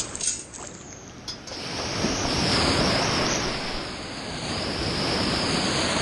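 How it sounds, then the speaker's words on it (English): Ocean waves crash on a beach shore. The surf is a loud, surging wash that swells and recedes, mixed with wind buffeting the microphone, and no one speaks. "When I'm working in this area right here, where the waves are crashing"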